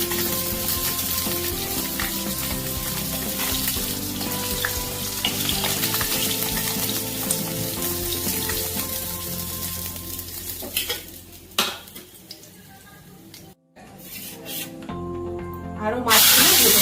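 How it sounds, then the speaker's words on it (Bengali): Bhola fish fry in hot oil in a wok, a loud constant sizzle and spatter with occasional clinks of a utensil, fading near the end, while a person talks over it. "আরো মাছগুলো ভেজে নিচ্ছি"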